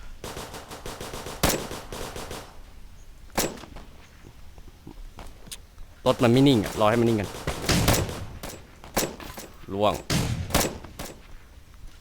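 Single sharp gunshots from a Dragunov sniper rifle in the Roblox game Edward the Man-Eating Train crack out one at a time at irregular intervals, with someone talking in Thai between and over some of them.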